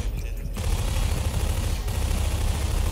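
Sustained rapid SMG gunfire in the Garry's Mod Prop Hunt game, a dense continuous burst that runs loud and unbroken through the whole stretch after a brief quieter start.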